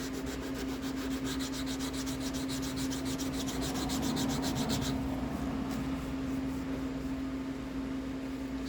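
Wet sanding of a Mandalorian helmet: steady rhythmic rubbing strokes of abrasive paper over a wet surface for about five seconds, then quieter, over a constant low hum.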